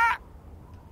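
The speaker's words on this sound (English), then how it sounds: "his bird has quite good ears" A bird in the Deponia video game gives one loud, harsh crow-like squawk that cuts off after a fraction of a second, then only faint background hum remains.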